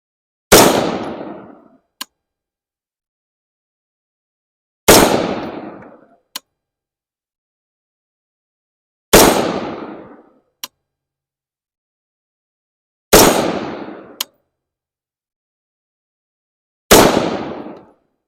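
Five sharp, loud rifle shots from a Palmetto State Armory Sabre with a 13.7-inch barrel, fired outdoors a few seconds apart, each with a decaying echo tail and a faint distant report after it.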